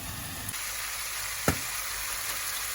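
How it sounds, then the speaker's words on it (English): Beef bourguignon vegetables, mushrooms and celery frying in a pan with a steady broadband sizzle, close and fairly quiet, broken by a brief stirring clatter midway. "Right, well that's frying away."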